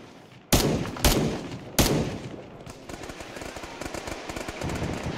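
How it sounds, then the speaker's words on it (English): Gunfire in the Arma 3 Antistasi military game: three loud, sharp shots or short bursts in the first two seconds, then a steady spatter of quieter, more distant rapid fire continuing to the end. "Getting shot from the southwest."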